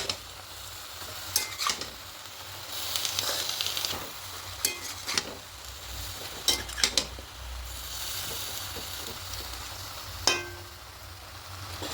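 Spinach cooking in a pan, a soft continuous sizzle under repeated clinks and scrapes of a utensil stirring the greens, with no talking.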